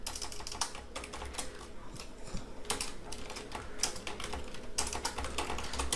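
Clattering keystrokes on a computer keyboard come in quick irregular bursts with short pauses, close and fairly quiet, with no voice over them.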